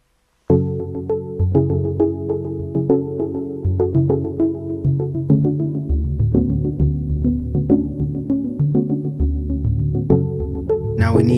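A programmed keyboard part cycles through a four-chord progression, steady sustained synth chords with rhythmic plucked notes on top, played alone at moderate volume throughout.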